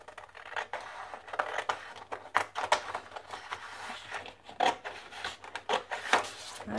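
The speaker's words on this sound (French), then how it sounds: "Donc là, je vais couper mon papier." Scissors snipping through paper while crafting an embellishment display, a series of short, crisp close-up cuts with uneven pauses between strokes.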